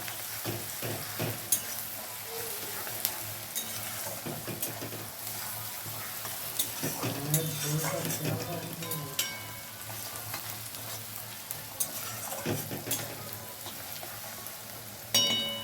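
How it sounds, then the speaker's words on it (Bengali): Sliced onions fry with chilli powder in a pan, a steady soft sizzle broken by repeated clinks and scrapes of a spatula stirring, close and moderately quiet with no talking. "আমার পেঁয়াজগুলো ভাজা হচ্ছে"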